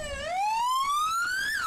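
A yellow toy ambulance sounds its electronic siren, a loud, bright tone sweeping upward and then dropping at the end, heard alone for under two seconds.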